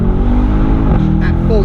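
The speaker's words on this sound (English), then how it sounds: "now I can really hear that exhaust" A 2018 Mercedes-AMG S63 Cabriolet's exhaust roars at full throttle with the roof down, a loud, close, deep engine drone with a voice partly over it.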